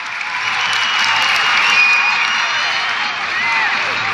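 Algerian football supporters in a stadium applaud and cheer a winger coming on as a substitute at the Africa Cup of Nations in Morocco, a steady, loud crowd roar and clapping sustained throughout with no pauses.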